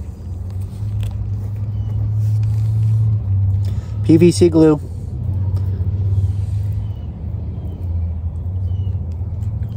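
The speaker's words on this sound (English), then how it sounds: "We are working at a place that's next to a major highway with a lot of traffic," Steady low rumble of heavy traffic from a major highway next to a well pump replacement job, continuous in the background while someone speaks briefly.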